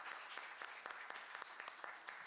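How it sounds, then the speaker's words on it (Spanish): Audience applause for a panel of speakers at an academic seminar, steady clapping throughout, moderately distant and fairly faint. "les pediría un aplauso a las panelistas por la discusión."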